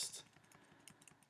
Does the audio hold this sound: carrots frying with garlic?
no